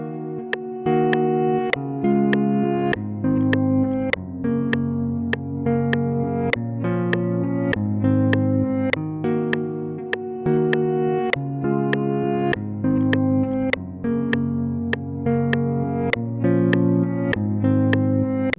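A reversed Afrobeats guitar layered with the original forward guitar line. Crisp plucked attacks blend with swelling backward tones in a steady, looping groove that runs continuously with no speech.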